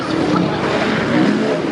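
Big four-stroke freestyle motocross bikes, four red Hondas and one green Yamaha, roar continuously and loudly through a live FMX show, engine noise steady and dense throughout.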